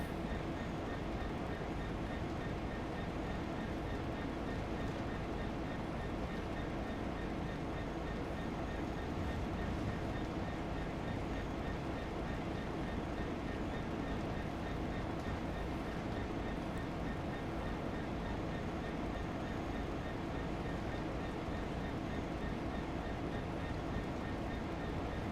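A GWR-liveried Class 166 diesel train runs in Train Sim World 2 on the Great Western Express route, a steady loud rumble of engine and rolling wheels continuing without a break throughout.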